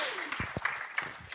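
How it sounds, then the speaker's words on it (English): Audience applause at a university entrepreneurship challenge event, scattered clapping with a few sharp nearby claps standing out over a softer room-wide patter, a brief voice underneath. "Just give them a big applause"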